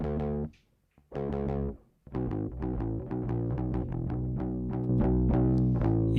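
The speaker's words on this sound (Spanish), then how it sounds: "aquí está el otro sonido del parlante, que es donde tenía el pedal de overdrive y que tiene un poquito más de distorsión" Electric guitar played through a speaker cabinet with an overdrive pedal adding slight distortion, rock chords ringing loud and sustained, with short pauses before a continuous strummed passage.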